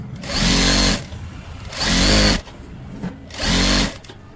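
A sewing machine stitches a folded blouse hem in three loud bursts of running, each about a second long, with short quiet pauses between them.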